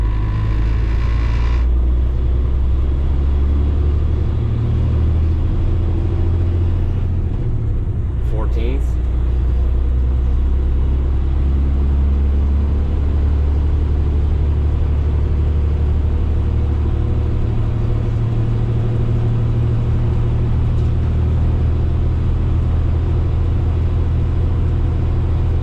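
A 2025 Kenworth T880 truck pulls out of a quarry, its engine droning loud and steady as it climbs through very short gear shifts, with one brief break in the rumble near the start.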